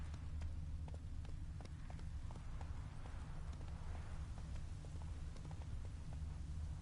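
Hoofbeats of the horse Roach running in The Witcher 3, a steady rhythmic clip-clop over a constant low ambient rumble, moderately close and without talk.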